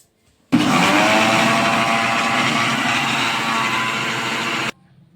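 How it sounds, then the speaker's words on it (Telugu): A mixer grinder whirs loudly and steadily for about four seconds as it blends a Herbalife Formula 1 mango protein shake, starting abruptly and cutting off sharply. "ఇప్పుడు వీటన్నిటిని మిక్సీ వేసుకుందామండి."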